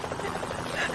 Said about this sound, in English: Listen to that. Helicopter. 10 to 1, it's the police.